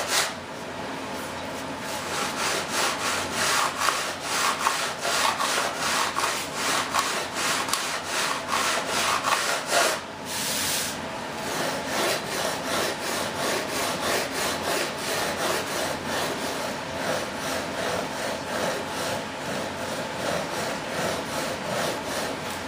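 Wood is sanded by hand on a large model F-18 turbine jet build, a steady rapid back-and-forth rasping stroke that continues close and loud with a short pause midway.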